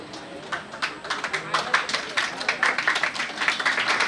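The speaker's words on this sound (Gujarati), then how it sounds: "તાળીઓના ગણગણાટથી વધાવો" Scattered, uneven clapping from a gathered crowd at a school children's science exhibition, rapid overlapping claps of moderate loudness with voices talking over them.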